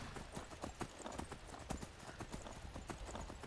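Armored horse hooves clip-clop steadily in the Skyrim video game, a continuous rhythmic patter of hoofbeats heard fairly close with a faint background bed and no talk over it.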